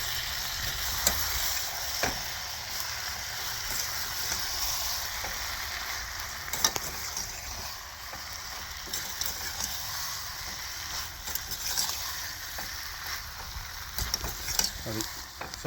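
Chicken boneless biryani being stirred in a pot after coriander leaves go in, with a steady sizzle and scraping stir sounds running throughout, close and fairly continuous with occasional sharper clinks.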